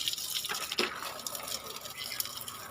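Water splashing and trickling as it is poured onto sun-baked garden plants, including a jasmine shrub, in morning heat, a continuous bright gushing with small spatters, moderately close.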